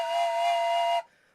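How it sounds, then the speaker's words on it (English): A steam-style train whistle sound effect blows one steady, bright, tonal blast for about a second, then cuts off abruptly, leaving a faint hiss. "Oh, it's a train whistle."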